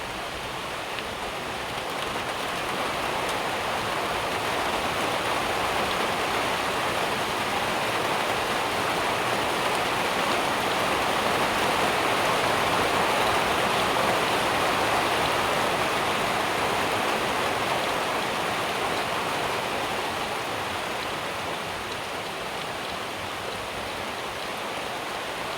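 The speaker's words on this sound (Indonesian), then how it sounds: "Hujannya kayak mau deras lagi." Heavy rain pours down steadily during a thunderstorm at a market, a dense, unbroken roar of falling water that swells slightly and holds constant, loud and close, with no voices.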